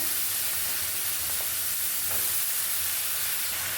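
Long beans hitting hot spiced oil give a soft steady sizzle with a couple of brief stirring scrapes, fairly faint and with no talk.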